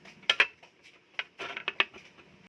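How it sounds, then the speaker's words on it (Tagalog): Metal clinks and clatters of a lid set onto a cooking pot of chicken tinola on the stove, a few sharp taps in two short clusters, close and fairly quiet, with no talking. "Guys, takpan na muna natin."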